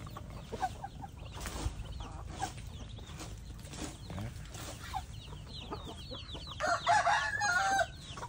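A rooster crows loudly near the end while black-skinned chickens cluck steadily throughout, a busy barnyard chorus close by.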